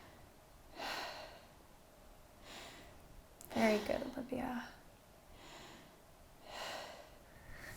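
Slow, deep breaths rise and fall in soft, airy waves during a guided breathwork exercise, with a sharper inhale-exhale burst in the middle. A voice speaks briefly and quietly.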